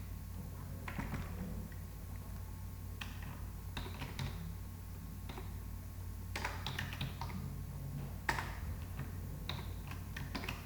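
Someone types on a computer keyboard while writing manual software test cases. Clusters of quiet, close key clicks come in irregular bursts over a faint steady hum.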